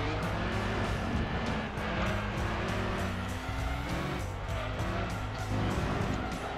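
A race car in Gran Turismo 2 spinning out, its engine droning and revving loudly with shifting pitch and a rough, scrubbing tire noise as it slides, continuous and close.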